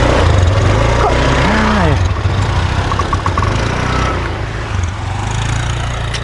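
A motorcycle engine idles and putters steadily nearby, loud at first and easing slightly, with people talking over it.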